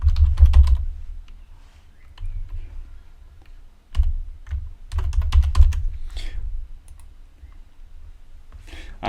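Fast clicking keystrokes on a computer keyboard, typed close by in quick uneven bursts with short pauses between runs.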